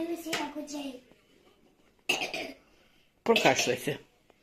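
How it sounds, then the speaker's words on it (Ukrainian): A child coughs and clears the throat in a few short, separate bursts indoors, near and fairly loud, with quiet pauses between them. "Прокашляйся."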